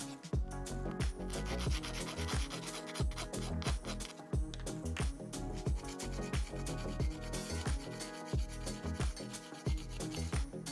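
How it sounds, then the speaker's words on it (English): Rapid rhythmic rasping of a nail file scraping back and forth over fingernails, close and steady with no talking. "I file this way, so horizontally and vertically"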